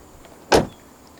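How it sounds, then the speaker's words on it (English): On a 2014 Mercedes-Benz A 180 Sport, the side mirrors fold out automatically after a front door opens, making a single brief motorized whir, close and distinct against near silence. "Upon opening the front doors, they automatically fold out."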